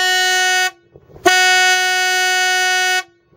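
Two long blasts of a loud air horn sound at a yacht club race start line as a general recall signal, each a steady blaring tone, with a short gap between them.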